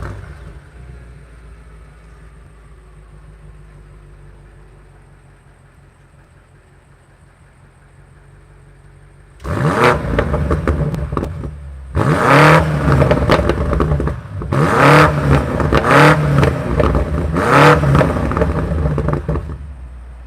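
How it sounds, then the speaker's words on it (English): A BMW M8 Gran Coupe Competition fires up after a quiet stretch of background hum, then roars loudly in Sport Plus, its revs broken by sharp overrun pops and bangs that come in bursts close to the listener. "Let's fire it up, and then I will put the engine into Sport Plus, which will make it have those overrun pops and bangs."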